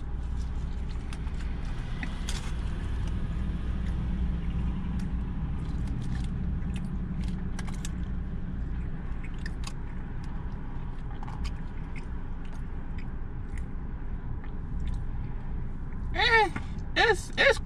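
Chewing and biting on a Chick-fil-A breakfast sandwich with the biscuit removed, faint crunches close to the mic over a low background hum, ending in a few louder bites.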